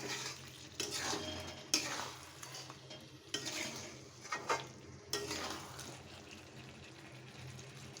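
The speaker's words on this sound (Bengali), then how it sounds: "আলুটা দিয়ে কিছুক্ষণ কষাতে হবে আরও।" Potatoes sauté in a pan for chicken curry, a faint sizzle under repeated scraping stir strokes, with a few clearer knocks of the spoon against the pan.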